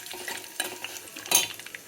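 Curry leaves dropped into hot oil already seasoned with mustard seeds and turmeric, giving a soft, crackling sizzle with a few sharper pops and a brief louder burst near the end, heard close up with no talk.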